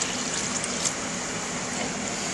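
Chicken stock made from bouillon cubes dissolved in boiled water is poured into a cooking pot for Creole tomato sauce, a steady close liquid rush running continuously with no voices.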